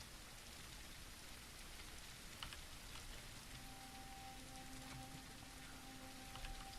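Steady rain falling in the survival game SurrounDead, a dense even hiss of drops on surfaces with faint scattered patters and a low tonal hum underneath, with no talk.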